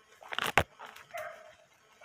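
Hunting dogs bark during an armadillo hunt outdoors: a couple of sharp, loud barks near the middle followed by fainter yelps and whines, fairly close, with no talk over them.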